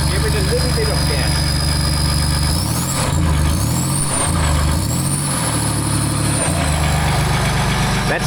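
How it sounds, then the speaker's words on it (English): A Land Rover engine runs with no exhaust fitted, idling loud and raw close by, then revved a few times in quick rising and falling surges before settling back to a rumbling idle. "And it's running now. Give it a little bit of gas."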